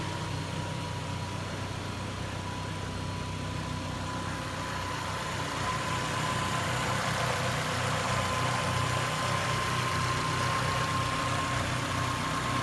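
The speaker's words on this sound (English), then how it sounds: "This is a 1991 base model Mercury Capri with a 5-speed manual transmission." A 1991 Mercury Capri base model with a 5-speed manual, damaged in a side collision, idles steadily with a constant engine drone and a faint loose exhaust rattle beneath it, with no talking.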